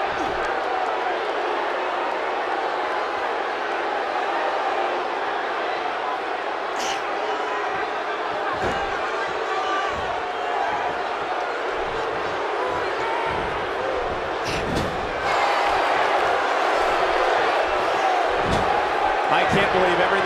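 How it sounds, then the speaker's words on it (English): An arena crowd in the wrestling video game WWE 2K17 keeps up a constant loud roar, swelling slightly near the end, with scattered thuds and slams from the ring. "What an amazing crowd."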